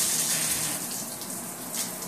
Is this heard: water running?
yes